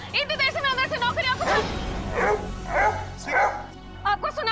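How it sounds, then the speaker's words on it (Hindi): A dog in a Hindi TV serial scene barks in quick repeated yips and bow-wows, loud and close, alternating with a woman's agitated speech. "इस कुत्ते को प्लीज दूर करिए, मुझे कुत्ते से बहुत"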